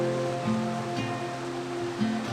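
River water rushes past rocks in a mountain valley in the Dolomites, a steady, fairly soft broadband flow that continues evenly throughout with no voices.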